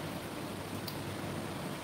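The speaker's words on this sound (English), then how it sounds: "Sounds very wet. Extremely strong rain, yeah." Heavy rain pours down in a steady, dense wash of hiss that stays loud and unbroken throughout, with no voices over it.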